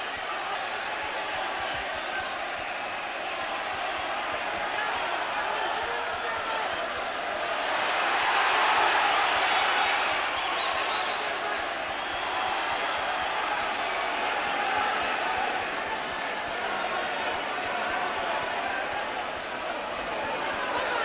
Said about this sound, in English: This crowd urging McAuley to come forward